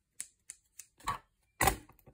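Small scissors snip through knitting yarn in a few quick, crisp cuts spaced about a quarter second apart, followed by a louder rustling snip near the end, close and quiet with no talking.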